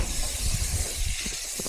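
Butter sizzles in a hot pan while a steak is being cooked, a steady close hiss with faint crackles underneath.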